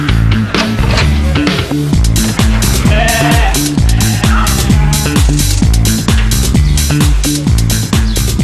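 Sheep bleat repeatedly over a loud, rhythmic music bed, their cries faint and partly buried beneath the steady beat, as though penned and being sorted by their collars.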